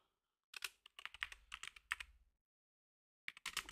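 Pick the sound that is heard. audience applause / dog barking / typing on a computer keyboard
typing on a computer keyboard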